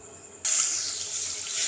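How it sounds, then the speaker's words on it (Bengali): Milk pouring into a kadai for a Bengali sweet, a steady close liquid rush starting abruptly and running continuously to the end. "এবার আমি কড়াইতে দুধ দিয়ে দেবো।"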